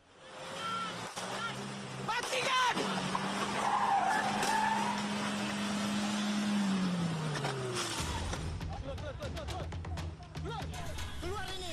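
A car's tires squeal in a long, loud skid during a police chase after a car carrying narcotics, with engine roar under it and a voice speaking over it.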